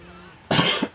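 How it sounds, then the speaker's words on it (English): A single sharp, close cough bursting out of near silence, with a brief second rasp at its end. "Well, that was a nasty cough."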